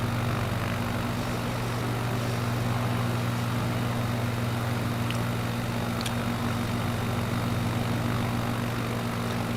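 A propeller airplane engine drones steadily throughout a flight in the video game Microsoft Flight Simulator 2024. The hum stays loud, even and continuous, with no talking over it.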